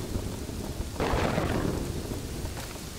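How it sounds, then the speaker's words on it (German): A thunderstorm in the city-building game Kingdoms and Castles: steady rain hiss, then a sudden loud rumble of thunder that swells and slowly fades, with no talk over it. "Gewitter."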